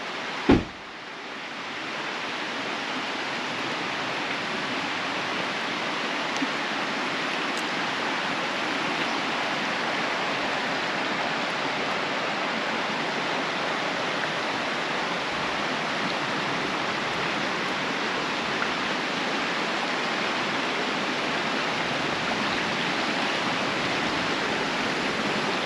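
Rushing river water flows steadily and loudly beside a camper van parked at a riverside spot, a dense, constant roar with no pauses and no voices.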